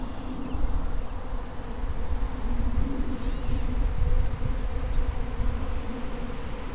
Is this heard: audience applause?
no